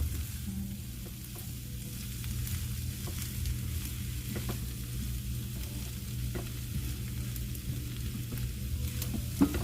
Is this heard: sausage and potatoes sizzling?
yes